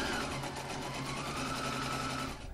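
Sewing machine running continuously at steady speed while stitching piping into a fabric seam, a close, even mechanical whirr with rapid needle pulsing and no talking.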